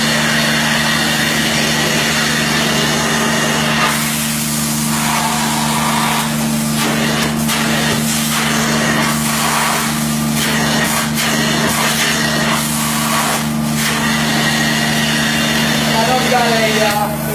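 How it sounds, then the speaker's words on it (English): A rug-cleaning extractor works over the fringe of an oriental rug: a steady motor whine with irregular hissing, sucking bursts as the wand passes, close and continuous. "we're ready to extract the fringe and clean it up, so let's extract it and let's see what it looks like"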